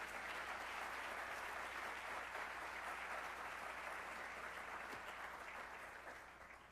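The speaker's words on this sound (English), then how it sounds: "Let's give them a round of applause" Sustained applause from a meeting audience, a dense even wash of clapping that holds steady for several seconds before gently tapering off, heard at a distance and fairly quiet.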